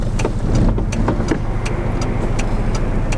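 A Toyota AW11 with a 4AGE engine fitted with bike carbs runs hard on a road, its engine note buzzing loud and close with throbbing revs and sharp intake pulses throughout.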